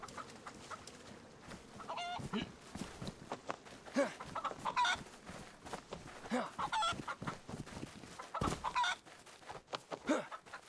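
Chickens clucking in the DayZ video game on Xbox, scattered clucks running under continuous talk from players, with a sharp thud near the end.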